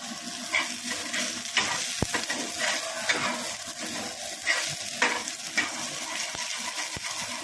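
Onions frying in oil in a kadai, stirred steadily with a spoon, giving a continuous close sizzle broken by light metallic scrapes and taps against the pan; no voices.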